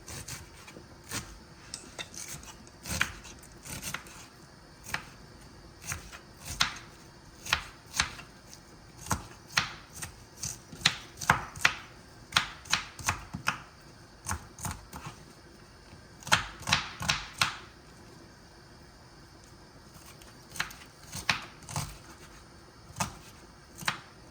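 Knife chopping ingredients on a board while preparing spaghetti with meatballs, irregular sharp close cuts coming in bursts and clusters, with quiet pauses between runs.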